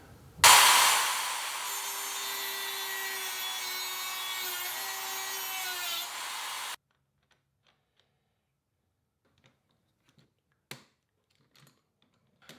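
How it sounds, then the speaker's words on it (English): A Dremel rotary tool trims the ends off threaded rods for a wood doormat, giving a loud, steady high-pitched grinding whine for about six seconds, then quiet with a few small clicks and taps. "I'm going to work on trimming the ends off, putting the stop nuts on all of these"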